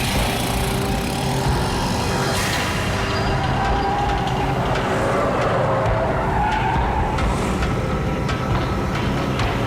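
A car roars in and its tires screech as it skids to a stop, with a constant loud engine and road noise running throughout.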